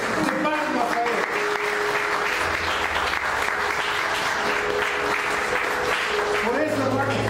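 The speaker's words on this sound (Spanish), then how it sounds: "Dale una ofrenda fuerte de palmas a Él." Steady, loud applause from a church congregation fills the space continuously for several seconds, with voices calling out beneath the dense clapping.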